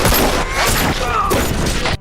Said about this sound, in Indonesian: seorang pemburu hadiah yang bernama Wu Ming menyerang mereka dengan senjata api.